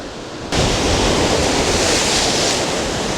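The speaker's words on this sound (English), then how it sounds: "with the wave so strong, there's hardly any beach here" Strong waves crash and surge at a Cleveland, Ohio lakefront below a waterfall, a loud, continuous roar of water that starts abruptly and fills the whole stretch, with no voices.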